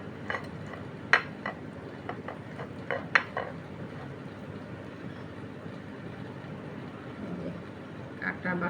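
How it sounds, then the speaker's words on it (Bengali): Lentil paste mixed with ground crab and other ingredients in a bowl for lentil chops, giving soft intermittent clinks and scrapes of a utensil against the bowl at an irregular pace, faint and close. "কাঁকড়া বাটা সব উপকরণগুলো ভালো মতো মিক্সড করে নেব"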